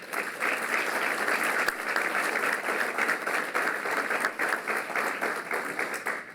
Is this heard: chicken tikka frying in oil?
no